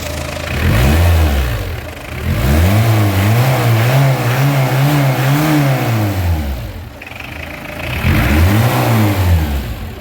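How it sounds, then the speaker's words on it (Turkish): A Peugeot Partner 1.9 engine revs up and down repeatedly after a repair, close by, with the pitch climbing and falling in loud swells between brief drops toward idle. "Motorun sesini dinle."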